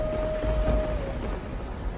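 Heavy rain falls in a jungle at a steady dense hiss, with a low rumble of thunder and a faint sustained tone, no speech heard.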